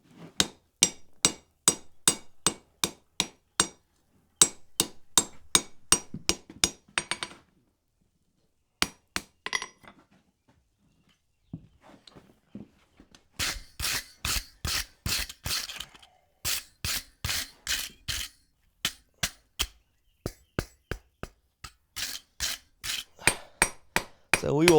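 Hammer blows land on a forge weld in a colonial nail header, steady runs of sharp metallic strikes broken by a few brief pauses, loud and close, with no voices.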